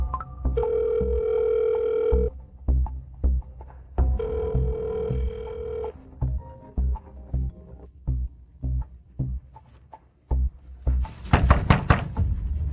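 A telephone rings in two long electronic trills, then a run of irregular knocks and thumps follows, ending in a louder burst of clattering noise.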